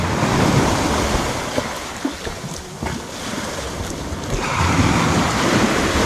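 Heavy ocean surf crashes and rolls continuously, loud and close, with wind buffeting the microphone throughout.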